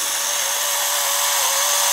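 Electric kitchen grinder crushing coarse salt, a steady high-pitched motor whine with a gritty grinding texture, close and continuous for the whole stretch, no talking.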